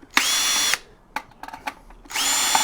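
A cordless power screwdriver whirs in two loud bursts at a Cisco access point module, with small clicks and handling taps of the metal parts in between.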